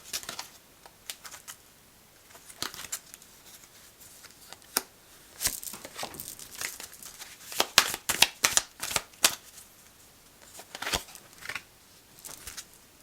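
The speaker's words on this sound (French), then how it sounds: "Je vais tirer quelques cartes pour voir s'il n'y a pas des pistes, des choses à ajouter." Tarot cards are shuffled and drawn by hand, with soft riffling flutters and quick papery slaps that come in irregular close bursts and build to a dense patter in the middle.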